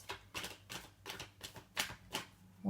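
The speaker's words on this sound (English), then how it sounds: "I'll just shuffle the card one more extra time here" Tarot cards being shuffled by hand in a quiet room, about seven soft papery bursts in an uneven rhythm, close and fairly quiet, with no talk.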